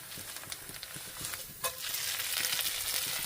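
A Waffle House–style hash brown of grated potato crackles and sizzles in a hot pan, with a sudden burst of louder frying as it is flipped partway through, then a sustained hiss.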